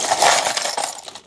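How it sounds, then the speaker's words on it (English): Small metal sewing machine parts are tipped into a container in one quick rattling pour, a close burst of jingling clinks that tapers off within about a second. "I'll tip all the random stuff into this container."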